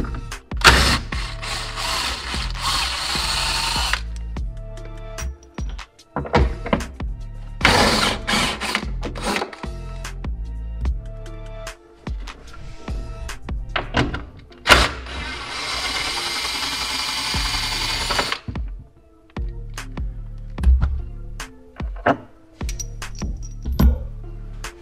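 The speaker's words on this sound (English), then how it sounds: "looks like our size is a 13 millimeter socket." A hand ratchet with a 13 mm socket clicks repeatedly while removing the bolts that hold a subwoofer box in a Dodge Viper, in close, irregular bursts of fast metallic ratcheting with clinks and handling noises between.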